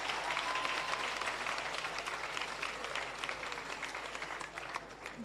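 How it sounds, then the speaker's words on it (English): An audience at a Jamaican civil service long-service awards ceremony applauding a performing group, a dense, sustained round of clapping heard from some distance, gradually easing off toward the end. "Give them another round of applause,"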